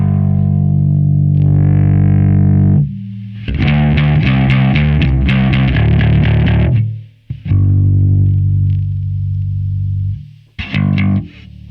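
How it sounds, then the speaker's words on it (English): A bass guitar played through heavy distortion during an album recording session, loud sustained fuzzy notes and a burst of fast, gritty picked notes in the middle, separated by brief silences. "I can add more distortion to it, which would sound like this."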